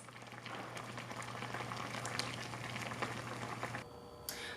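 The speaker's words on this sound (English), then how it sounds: "Bring your pot to a boil, then simmer the dye for about 30 minutes." A pot of red cabbage egg dye with water and vinegar simmers on a stove, giving a steady bubbling, sizzling patter with a constant low hum underneath that drops away near the end.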